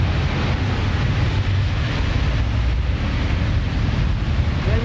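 Torrential rain floods a street in Mexico City, making a loud, continuous rushing wash of water and rain noise with no pauses or voices.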